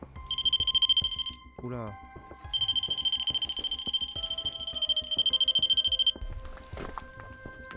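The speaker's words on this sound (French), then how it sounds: "Le petit détecteur qui est là, vous voyez la petite boîte noire qui est par terre." A small black detector box lying on the floor sounds a shrill electronic alarm in two long stretches of rapid pulsing beeps, close and fairly loud, with a brief exclamation from a voice and some handling noise.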